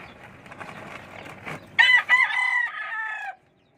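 A rooster crows once, loud and close, a stretched strained call that ends abruptly, preceded by soft clucking and rustling.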